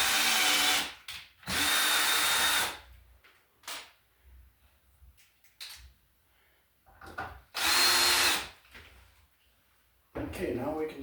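A power drill bores a small pilot hole for a sheetrock screw while wiring a GFCI-protected receptacle: several loud, close whirring bursts of a second or two each, split by quiet pauses and a few light clicks and handling knocks.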